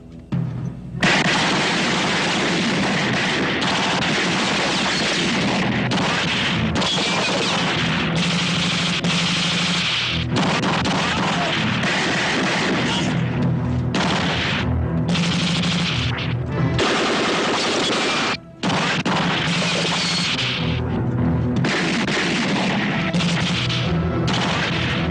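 Gunfire from a shootout in a Filipino film rattles on for about 25 seconds in dense, loud, overlapping bursts with heavy booms, barely pausing except for one brief drop near the end.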